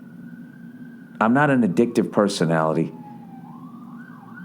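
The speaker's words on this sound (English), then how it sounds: "I hope you guys could hear the siren in the background" An emergency vehicle siren wails faintly in the distance, a steady drawn-out tone at the start that returns rising and falling near the end, with someone talking loudly over the middle.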